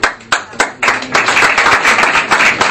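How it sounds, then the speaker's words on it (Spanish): Crowd of social leaders filling a hall applauds after a project's approval, a few loud bursts of clapping at first, then sustained dense applause. "Cada una de las intervenciones que culminaron con la aprobación del proyecto fueron aplaudidas por los dirigentes sociales que repletaron el salón"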